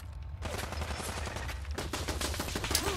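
Rapid automatic gunfire in a video game rattles steadily toward the player, a dense unbroken stream of shots at moderate distance with game ambience underneath.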